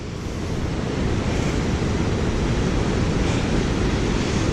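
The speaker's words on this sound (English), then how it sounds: "the water does splash up over those rocks" Ocean waves crash and splash over coastal rocks at a cliff fishing spot, a loud, continuous roar of surf with wind buffeting the microphone.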